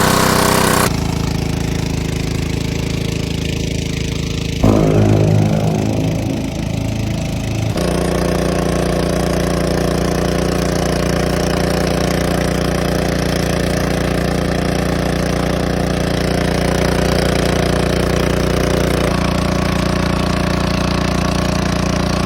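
A Holtz HPP154 four-stroke water pump engine runs steadily and loudly on its own, with a brief shift in tone early on before settling into a continuous drone.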